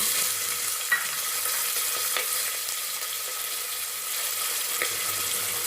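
Cumin and peas tossed into hot oil in a pan for vegetable pulao, giving a steady, even sizzle throughout with a few faint clinks of a spoon, close and continuous.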